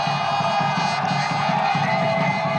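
A football stadium crowd roars and cheers steadily after a goal, a dense, loud wash of voices with no break.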